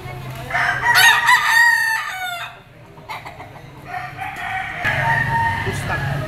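A yellow-legged pumpkin sweater bull stag gamefowl rooster crows loudly and close, one long call followed by farmyard clucking, with someone talking briefly over it.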